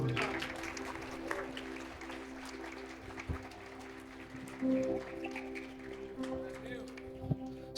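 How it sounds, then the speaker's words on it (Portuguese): A church congregation claps over held organ or keyboard chords, a fairly faint, scattered patter with a few louder bursts, and voices are heard among it. "Você pode aplaudir a Ele."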